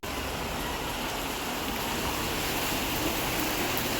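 Steady, even hiss of heavy rain falling on surfaces in an Indian village, continuous and moderately loud with no voices.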